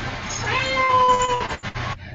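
A house cat meows in one drawn-out, rising and falling call close by, with a brief rustle and breath after it; no talking.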